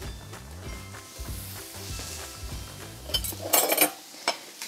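Bowls and dishes clinking and scraping in a home kitchen, close and irregular, with sharper ceramic knocks toward the end and a faint sizzle of prawns cooking in the background.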